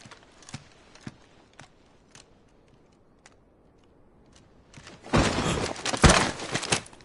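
A horse's hooves in the video game Final Fantasy 16: scattered single thuds at first, then a dense, loud burst of clattering steps close by toward the end.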